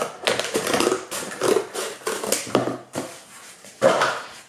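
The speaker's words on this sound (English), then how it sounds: "I'm going to just cut off one of these flaps" Scissors or a knife cutting a flap off a large piece of cardboard, heard as a run of close, crisp crunching and snipping bursts with short pauses between cuts.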